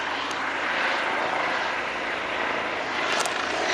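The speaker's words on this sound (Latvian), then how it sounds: "Jo lidinās poliču helītis, helikopters." A police helicopter flying overhead gives a broad, steady roar of rotor and engine, loud and close, holding constant throughout with no talk over it.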